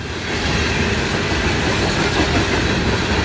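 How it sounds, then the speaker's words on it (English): A loaded CSX coal train rolls past close by in Hurricane, West Virginia, a loud, continuous rumble and roar of heavy wheels on rail that swells in the first half-second and then holds steady, with no voices. "Loaded coal train."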